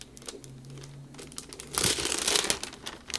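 Gold Thermoweb Deco foil rubbed down by finger onto a craft surface, soft close crinkling and rustling with a louder scratchy swell in the middle.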